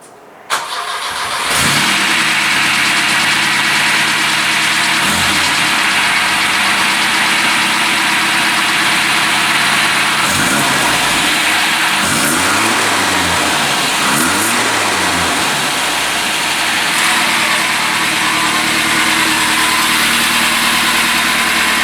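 A Volvo car engine fitted with a new IPD exhaust starts and settles into a steady, loud idle with a deep exhaust rumble and a few brief revs.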